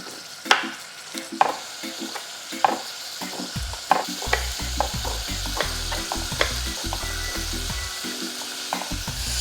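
Shrimp sauté in a saucepan with onion, parsley, thyme, pepper and garlic, a steady close sizzle and frying crackle broken by repeated scrapes and clinks of stirring against the pan, with no talking.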